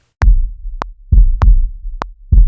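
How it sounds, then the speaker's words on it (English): A boom bap kick drum programmed in Logic Pro hits hard and close in a steady heartbeat-like pattern, each deep thump alternating with sharp, bright clicks, with no talking. "Let's start with the kick drum."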